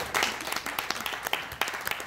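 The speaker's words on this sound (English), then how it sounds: "We can have a big round of applause for Mago Andy, who was fantastic." A convention show audience gives a short, fairly faint burst of applause, many scattered claps forming a quick patter for about two seconds.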